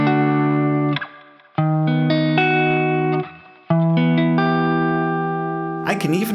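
A sequence of sustained harmonic chords, including a secondary dominant chord in first inversion, each ringing with a smooth electronic keyboard tone and separated by short gaps, ending in a brief rougher burst.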